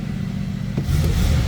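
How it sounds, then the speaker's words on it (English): A 1977 Chevrolet Monte Carlo Landau engine runs on a high idle with the choke on, a steady low rumble that grows louder and fuller partway through. "Chokes on, we're on a high idle."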